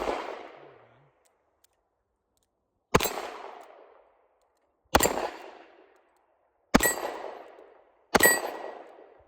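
Four loud, sharp shots from an Armscor M206 .38 Special snub-nose revolver fired double action, each close blast trailing off in a ringing decay, spaced a couple of seconds apart after a fainter opening report.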